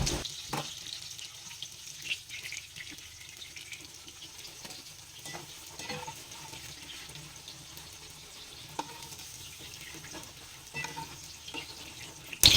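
Vegetables frying in oil in a pan for Bengali shukto give off a continuous sizzle for several seconds, broken by occasional clinks and scrapes of a utensil, with no voices.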